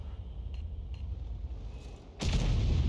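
A tank cannon shell strikes the T-150 in World of Tanks: after a low rumbling lull, one sudden loud, close blast erupts and holds as a dense, roaring impact to the end.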